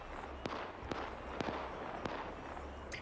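Artillery fire in the Arma 3 trench-warfare game: four or five sharp distant booms spaced about half a second apart, faint over a steady low rumble.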